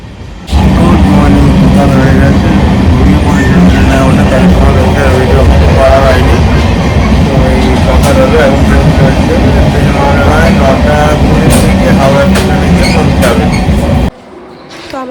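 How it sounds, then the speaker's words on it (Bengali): Passenger train running toward Howrah, a loud continuous rumble and rattle of carriages up close with mixed voices, ending abruptly near the end. "তো আমাদের ট্রেন এসে পৌঁছালো হাওড়াতে 9:22-এ"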